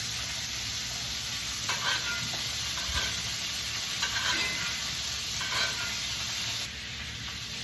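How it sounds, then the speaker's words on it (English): A steak sizzles steadily in a pan of melted butter with garlic, rosemary and thyme while a spoon bastes it, soft scrapes and splashes rising over the constant frying hiss. "You will then take your spoon once your butter has melted and you begin to baste the steak."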